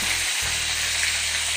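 Ground ginger-garlic paste hits hot oil with a loud, close, hissing sizzle that holds steady for the whole short moment, with no one speaking.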